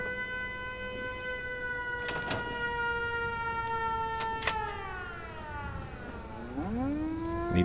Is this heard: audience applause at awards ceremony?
no